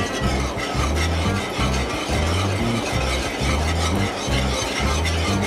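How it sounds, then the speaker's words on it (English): A whisk or spoon works flour and oil around a pan for chicken gravy, giving steady scraping, stirring strokes in a repeating rhythm, close and fairly loud, with a faint sizzle underneath and no talking. "remember to keep your whisk or your spoon, whatever you're using, moving in your pan so that it doesn't scorch while your flour is cooking"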